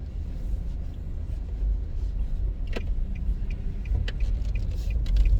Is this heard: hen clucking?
no